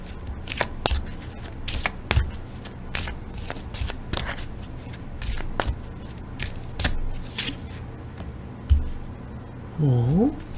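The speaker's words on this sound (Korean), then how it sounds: "다시 섞어서 해봐야지 한번" Tarot cards are shuffled close up by hand in crisp riffling bursts and sharp snaps, and a voice speaks briefly over the shuffling near the end.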